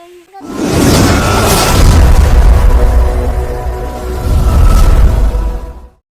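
A loud firecracker blast with a deep boom that rumbles and crackles for several seconds before cutting off abruptly.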